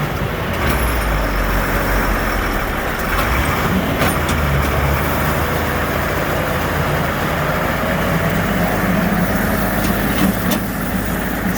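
A tractor fitted with dual wheels pulling a stuck vehicle out of a muddy field, a loud, steady low engine drone under strain with occasional clanks and knocks.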